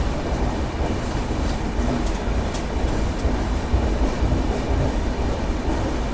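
Visakha Express pulling into platform 3 at Bhubaneswar, a steady loud rumble of rolling carriages with faint wheel clatter and brief squeals, continuous throughout.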